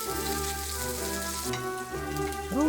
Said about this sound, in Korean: 버터 한 덩이를 팬에 조져준 다음 빵, 버섯, 토마토를 때려 넣고 구워줍니다